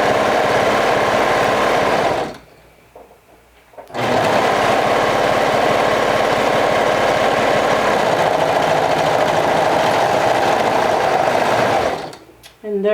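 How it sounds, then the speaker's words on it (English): A serger sewing machine stitches along a fabric seam, a loud steady whirring hum that stops for about a second and a half, then resumes and runs on continuously before cutting off near the end. "And there you have it, the other side is done too, all with the serger."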